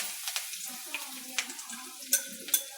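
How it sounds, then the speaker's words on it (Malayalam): Cumin seeds spluttering in hot oil give a quiet bed of sizzle with scattered sharp pops and crackles at irregular intervals. "ഇച്ചിരി ജീരകം, നല്ല ജീരകം ഇച്ചിരി ഇടാം. ഇനി അതൊന്ന് പൊട്ടട്ടെ."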